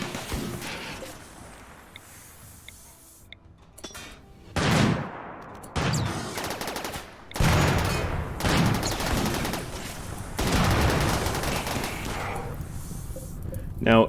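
Uranium turrets firing in RimWorld, heavy bursts of gunfire in several long volleys separated by short gaps, loud and close over a low rumbling background.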